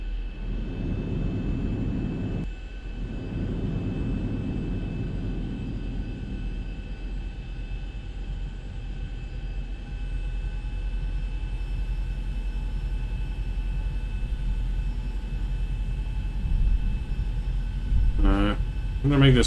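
Aircraft engines on takeoff in the X-Plane 12 flight simulator: a steady loud roar and rumble with tonal whine, building gradually over the run, with a person talking during it.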